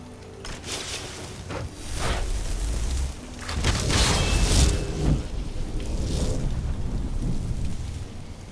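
Rain hisses steadily in the Skyrim video game while deep rolling thunder swells and booms through the middle, loud and enveloping with no voices.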